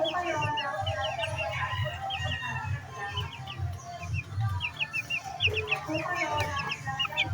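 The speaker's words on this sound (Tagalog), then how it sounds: "Mga alaga namin manok" Backyard pet chickens clucking with a rooster crowing now and then, busy overlapping calls close by over a low rumbling background.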